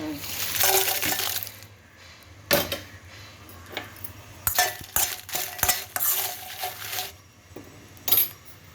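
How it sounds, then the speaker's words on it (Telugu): Dried red chillies are stirred and roasted in a pan, with intermittent scraping and clinking strokes of a spatula against metal and brief rattles between pauses, close by and without talk. "ఇప్పుడు ఎండుమిర్చి వేసుకున్నాం"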